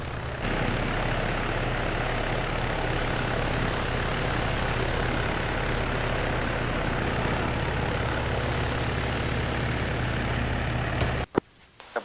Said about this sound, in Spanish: Ayuden a descargar el cargo de helicóptero, por favor, cuando llega.